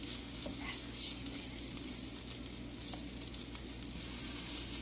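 Soft French onion meatballs, about sixteen of them, fry over medium-high heat in a pan with a continuous faint, even sizzle and a few light clicks.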